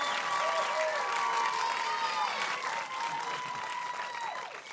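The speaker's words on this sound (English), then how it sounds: "Let's do a round of applause for Mayor." A studio audience claps for the mayor on a talk show, a full, robust round of applause with a few whoops and whistles, loud and steady before fading toward the end.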